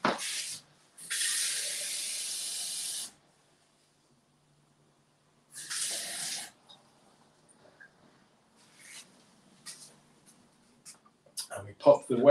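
Water for mixing sourdough dough runs in two hissing bursts, one longer and one shorter, near and fairly loud, with quiet pauses and a brief clatter of handling toward the end.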